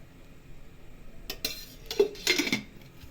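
A spoon clinks and scrapes against a bowl while stirring khaman batter in a few quick bursts, close and fairly quiet, with no talking.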